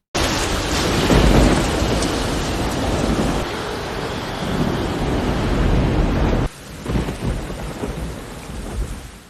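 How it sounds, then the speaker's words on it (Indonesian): Heavy rain pours in a dense hiss while deep thunder rumbles loudly, the downpour easing slightly toward the end. "kini beliau berada di tengah badai ganas"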